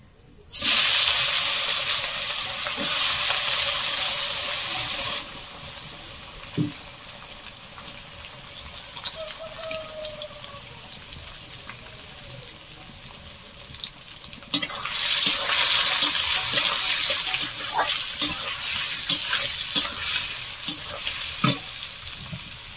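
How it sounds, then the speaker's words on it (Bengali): Loud frying crackle and sizzle of onions and dried red chillies in hot oil, swelling and fading in long stretches, with occasional stirring knocks and clinks. "পেঁয়াজটা আধ ভাজা হয়ে গেছে"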